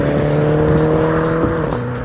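A hot hatch car is driven hard, its engine holding a steady close drone with a constant tonal hum throughout.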